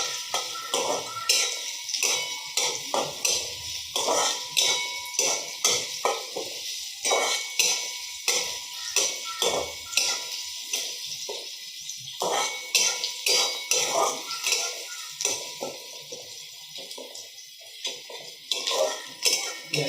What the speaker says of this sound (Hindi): ये अच्छी तरह फ्राई हो रहा है प्याज।